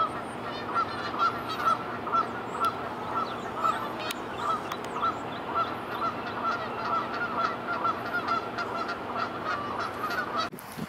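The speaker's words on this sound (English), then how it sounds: "Some birds playing right above my head." Geese honk overhead in a steady, repeated chorus along the Arkansas River, the calls loud and close and running continuously with no talk.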